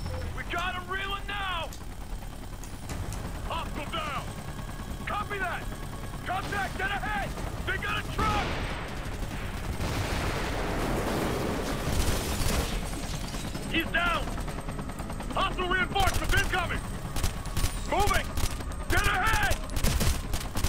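Sustained gunfire with recoil in the Ghost Recon Future Soldier video game during a holdout mission, rapid bursts crackling under intermittent radio-style voices and a steady rumbling battle bed.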